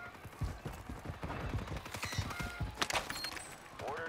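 Gunfire crackles through a trios video game shootout in dense, irregular bursts of rapid shots, fairly quiet and continuous, with brief tonal game sounds mixed in.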